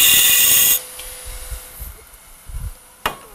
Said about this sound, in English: I can use that like a scraper. Come in there and just pull that around there and scrape that.